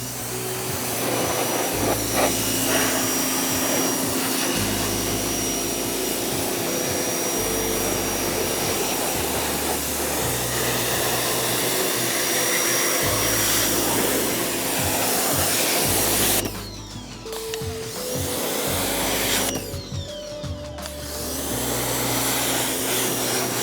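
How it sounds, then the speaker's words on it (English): A pressure washer rinses off a dirt bike with a loud, steady, rushing hiss over a droning pump, briefly dropping off twice as the spray stops and restarts. "just take your pressure washer again really quick, rinse it off"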